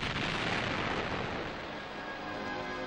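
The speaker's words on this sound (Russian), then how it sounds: "Гремят взрывы на трассе будущей железнодорожной линии Абакан-Тайшет." Blasting on the route of the future Abakan–Taishet railway line, heard as a continuous loud, broadband rumbling roar with no talk.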